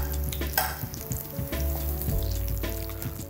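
Butter spooned over a schnitzel frying in a pan, a close continuous sizzle with spoon scrapes and splashes, with no talking.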